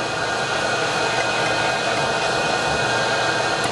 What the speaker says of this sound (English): Vacuum the outside, the sides,